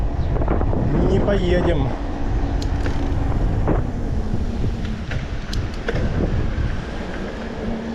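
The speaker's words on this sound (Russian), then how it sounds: "Да, ветер, блин." Strong wind buffets the microphone in a steady, loud roar on the Crimean coast, with a voice briefly speaking over it.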